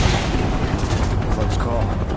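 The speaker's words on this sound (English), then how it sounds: "Shoot to kill!" Rapid gunfire from a firefight in Final Fantasy 7 Remake on PS5, a steady dense crackle of shots running through the whole moment under loud game noise and speech.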